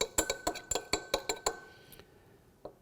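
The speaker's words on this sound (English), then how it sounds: "My fifth addition of calcium hydroxide, and I go through the stirring process" Glass rod clinking against a beaker while stirring calcium hydroxide solution, about ten quick, bright, evenly spaced taps close by, then a pause and one final faint clink.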